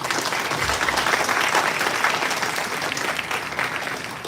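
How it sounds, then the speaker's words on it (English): Audience applause at the inaugural ceremony of an international commercial arbitration moot competition, a steady, dense wash of many hands clapping that holds at an even level throughout, with no talk over it. "So I think he deserves a huge round of applause."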